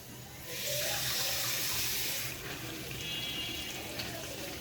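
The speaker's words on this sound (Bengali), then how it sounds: "আর একটু পানি দিয়ে দিলাম" Water is poured into spices frying in a pan, giving a steady rushing splash with a sizzling hiss, loud at first and then settling into a softer continuous wash.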